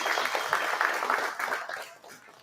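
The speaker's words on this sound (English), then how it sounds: "Give them a round of applause for being here." A seminar crowd at a fishing show claps for a panel of professional anglers, a dense, steady patter of many hands that carries on evenly and tapers slightly near the end.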